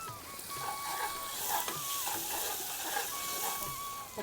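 Spices and asafoetida sizzle in hot oil for a tempering in a village-style cowpea vegetable dish. The hiss is continuous, close and fairly loud, with faint stirring under it.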